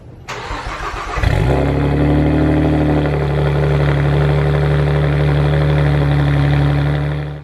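A 2008 Saab 9-3 Turbo X engine cranks and catches, then settles into a loud, steady, deep idle rumble heard up close with no talk.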